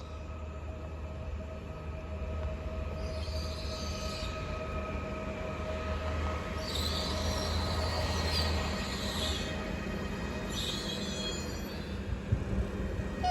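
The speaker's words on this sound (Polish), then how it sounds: "I rusza EN 70. 6 0 17 do Warszawy Gdańskiej" An EN76 Elf electric multiple unit pulls away from Nowy Dwór Mazowiecki station on its way to Warszawa Gdańska. It gives a steady low rumble and electric whine, with brief rising squeals of wheels repeating throughout.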